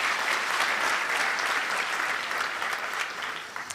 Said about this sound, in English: Can we give them a round of applause for their work well done?